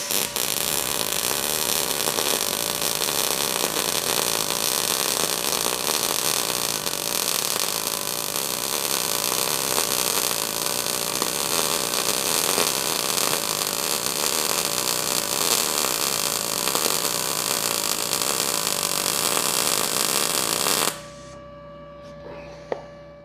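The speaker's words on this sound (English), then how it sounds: "I love welding, even if it's dumb stuff like this." ArcCaptain MIG 200 welder running a down pass, a loud continuous crackling, sizzling buzz that holds steady for about twenty seconds before cutting off abruptly to near silence.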